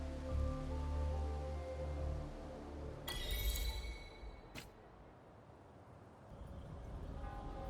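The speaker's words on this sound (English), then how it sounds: "This rain, it's finally happening." Steady rain patters in the video game Wuthering Waves, a soft continuous hiss broken by a brief bright metallic burst partway through.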